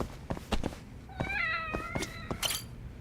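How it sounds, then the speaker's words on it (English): Several cats meow in close succession in the video game Judgment, with drawn-out, rising and falling cries overlapping one another, fairly near, among soft clicks and background game sounds. "We got a lot of cats."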